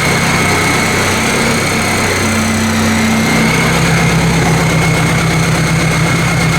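A Ford 800 tractor engine, with a carburetor that had been leaking fuel, runs loud and close for the whole stretch, a steady idle with a faint shift in its drone partway through and no talk over it.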